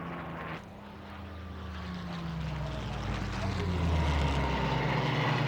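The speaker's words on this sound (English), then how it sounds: "Back come the 109s for the second strafe." Messerschmitt 109 fighters sweep in on a low strafing pass at an airshow at North Weald, a steady propeller-engine drone that swells gradually louder as the aircraft approach.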